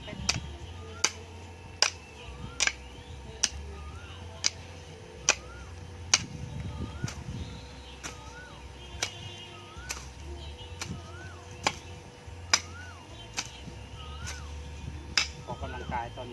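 A hoe scrapes wet, stony ground after rain, with sharp, regular clicks of stones struck at roughly one-second intervals over a low scraping rumble, fairly distant and moderately quiet.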